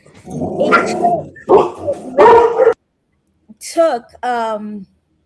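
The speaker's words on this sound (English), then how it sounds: "By the way, Nick, dog barks are always allowed. It's dog bell time. Someone's at the door" A dog barks at someone arriving at the door, several loud close barks in quick bursts followed by higher whining yips.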